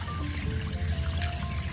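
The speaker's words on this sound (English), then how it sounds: "After the initial rinse," Fresh ginger rinsed under running tap water, a soft steady trickle and splash in a kitchen, continuous and fairly quiet.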